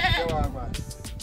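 A goat bleats close by with a loud, wavering, harmonic cry lasting under half a second, followed by softer rustling and breathy background sound.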